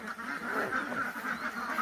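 Domestic ducks quack in a close, dense chorus as their pen is opened, the honking calls overlapping continuously.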